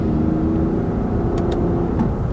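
A 2018 Lexus RX 350 F-Sport AWD accelerating in manual mode with paddle shifts, giving a steady, moderately loud engine drone with road hum inside the cabin and a couple of faint clicks, no talking.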